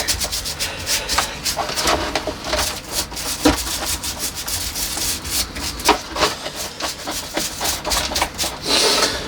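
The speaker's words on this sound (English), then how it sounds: "Just get some of this algae off the trunk." Rough, rhythmic scraping and rubbing as algae is worked off a wisteria trunk during repotting, loud and close with repeated irregular strokes and no talking.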